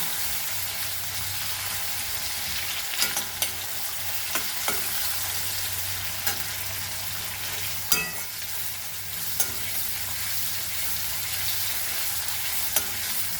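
Masala for a Goan jackfruit seed curry fries in a pan, a loud, even sizzling hiss running throughout with occasional sharp clicks and scrapes from stirring, close up and without talk.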